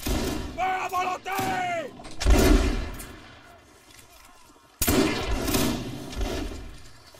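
A massed musket volley in Mount&Blade: Warband booms out in a Napoleonic battle, a deep rolling blast followed by a second sharp volley that rumbles and fades, after shouted voices.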